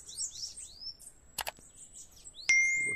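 Small wild birds chirp and squabble in a brief fight, with thin rising tweets, a couple of sharp clicking bursts, and a clear ringing note near the end, heard close and alone.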